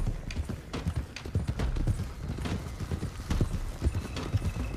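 Hooves clip-clop at a steady gallop as several horses ride together in Red Dead Redemption 2, dense and close, with a horse whinnying briefly amid the rhythmic pounding.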